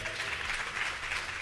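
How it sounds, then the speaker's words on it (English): An audience at a convention panel applauds, a steady wash of clapping from many hands heard at a moderate distance, continuous and even throughout the short stretch. "Give him a round of applause, please."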